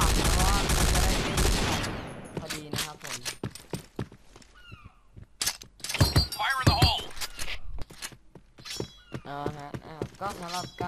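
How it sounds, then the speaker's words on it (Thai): G36C Ext. D rifle in the Point Blank shooter firing short bursts of a few rounds each, loud sharp cracks in clusters with pauses between, under someone talking throughout. "ยิงเป็นชุดๆนะชุดประมาณ2-3นัดนะฮะ"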